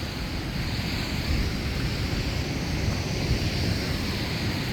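Sea waves wash steadily onto the shore on a morning walk, a continuous broad roar of surf mixed with wind rush on the microphone, close and loud with no voices.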